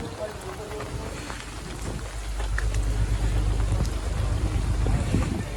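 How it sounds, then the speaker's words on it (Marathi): A fierce storm at sea seen from a merchant navy ship: wind and heavy rain roar continuously and grow louder partway through, with water and wind noise buffeting the microphone. A voice speaks faintly underneath. "वादळ बघा कसं आलंय इथं, पूर्ण समोरचं सुद्धा काय दिसत नाही, एवढं भयानक वादळ आलंय"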